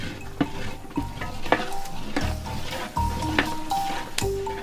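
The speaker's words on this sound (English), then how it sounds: "It requires constant stirring and attention to ensure it doesn't burn or scorch." Boiling chicle sap in a pot over a fire is stirred continuously, giving a bubbling simmer with a rhythmic series of close scraping strokes about every half second; no talking.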